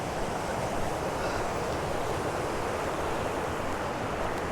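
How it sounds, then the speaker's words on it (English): Water rushes over rocks in the Connemara countryside on an evening outing, a loud, dense and continuous roar that stays steady throughout with no voices. "Have a look at this kind of water rushing over the rocks again from here, look."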